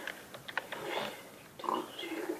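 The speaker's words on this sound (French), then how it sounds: "Là, on a du cochon." A pig oinking in a survival video game, several short grunts in quick succession, moderately loud over a faint background.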